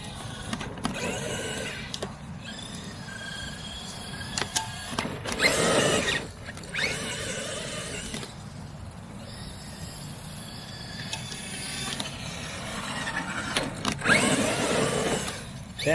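A Traxxas XMAXX 8S RC truck whines through repeated short electric motor bursts on an open cricket field, with two louder surges and quieter ambient gaps between them.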